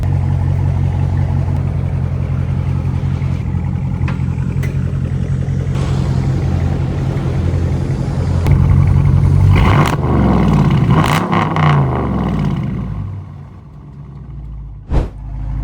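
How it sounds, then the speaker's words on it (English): A straight-piped Dodge Charger V8 idles with a deep, loud rumble, then gets a quick sharp rev that swells and falls away, ending with a single abrupt pop. "I'm gonna do like a quick little rev."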